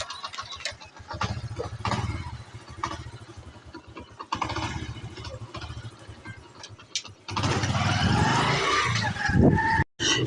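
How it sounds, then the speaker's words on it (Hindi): Motorcycle engine starting with a few low cranking attempts, then catching and settling into a loud, steady mid-pitched idle close by, with a brief cutout near the end. "मेरा मोटरसाइकिल लग गया वा"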